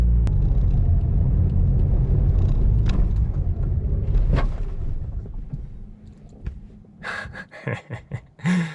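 A Mazda RX-8 rotary engine runs with a steady, loud low rumble for several seconds, then falters and dies during an idle problem, leaving brief clunks and mechanical noises close by.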